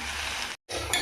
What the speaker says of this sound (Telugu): దొండకాయ ఫ్రైని శుభ్రంగా ఇలా తిప్పుకుంటూ వేయించుకుందాము